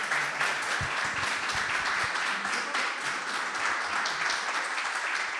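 Strong, sustained applause from a public audience at a comics talk welcoming the cartoonist Cacho Mandrafina, many hands clapping evenly and loudly throughout.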